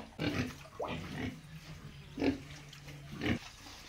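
Low pig grunts come in several short bursts with gaps between them inside a pig shed, over a steady low hum in the background.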